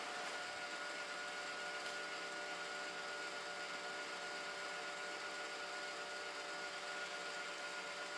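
An Ecovacs robot vacuum runs in vacuum-and-mop mode through a dining room and study, giving a faint, steady whirring hum that stays even from start to finish with no talk.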